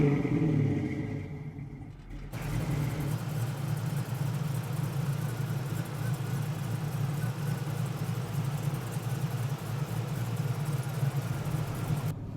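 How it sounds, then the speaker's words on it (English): A restomod 1967 Chevrolet Chevelle muscle car on the road, its engine a steady, loud low rumble that holds constant throughout, with a brief quieter moment at the start and no talking. "we're out cruising in the Chevelle, and this thing's getting tons of looks"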